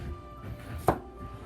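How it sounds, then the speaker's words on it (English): A knife chopping ginger on a board, a single sharp close cut standing out against quiet kitchen background. "Okay, we cut some ginger."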